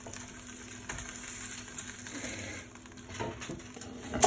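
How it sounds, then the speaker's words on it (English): Steak sizzling in an air fryer basket just after cooking, a soft continuous crackle and hiss with faint pops and handling clatter near the end, no talk. "You can hear it sizzling quite a bit."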